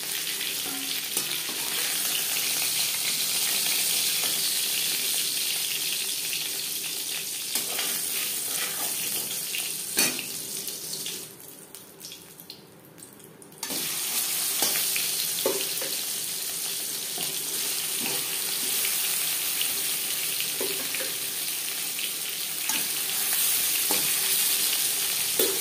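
Koi fish fry in oil with a steady close sizzle throughout, broken by an occasional clink or stir. The frying drops away briefly midway before carrying on.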